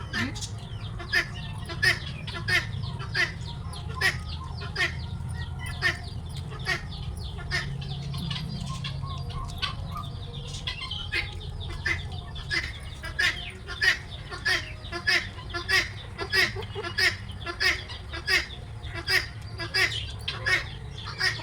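Chickens cluck and squawk in repeated sharp bursts, close and loud, during an outdoor Pongal festival, with people talking underneath throughout.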